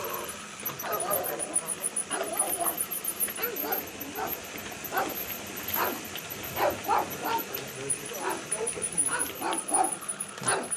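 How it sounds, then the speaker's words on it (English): A dog barks in short repeated yips near a hillside hamlet in Spain during a mountain bike ride, fairly faint against wind and rolling noise, with people talking nearby. "That's that same dog in the climb."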